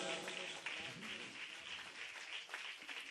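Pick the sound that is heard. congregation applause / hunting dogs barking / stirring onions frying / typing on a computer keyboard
congregation applause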